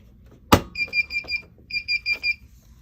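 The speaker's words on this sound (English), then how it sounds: "Never mind those beeps." A sharp clack, then two runs of rapid electronic beeps from a ribbon printer, each a quick burst of four or five tones, in a quiet room.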